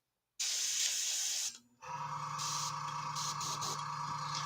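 An airbrush set to 40 PSI sprays paint in a loud, steady hiss that cuts out briefly and then resumes with an airy tone and a low hum underneath.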